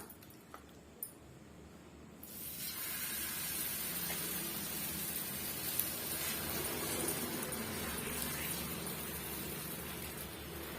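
Ragi (finger millet) batter hitting a hot griddle, setting off a steady close hiss and sizzle that swells after a quiet couple of seconds and then holds, with no talk.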